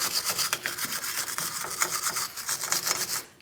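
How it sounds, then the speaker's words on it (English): Wire brush scrubbing the mating surface of an axle hub on a 2003-2011 Mercury Grand Marquis, giving a continuous, close, rapid raspy scraping with a steady back-and-forth rhythm and no talking. "We'll use a wire brush for this."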